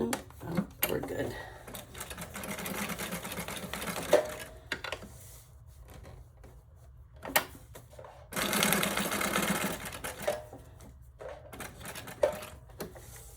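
A sewing machine stitches through imperfect paper in several rapid mechanical bursts separated by quiet pauses as the work is turned, close and clear with light handling noises between runs.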